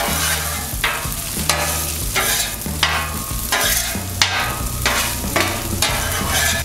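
Potatoes, egg and chorizo sizzle on a Blackstone griddle while a spatula stirs and scrapes them in regular strokes, a loud, close crackle pulsing roughly once a second.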